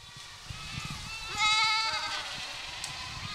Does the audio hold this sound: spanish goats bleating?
yes